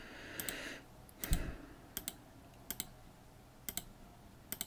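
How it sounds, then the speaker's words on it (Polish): Typing on a computer keyboard while playing the game Ishar 3, with sparse, separate key clicks and short pairs of taps spaced across a quiet room background. "Znowu sięgam po klawiaturę."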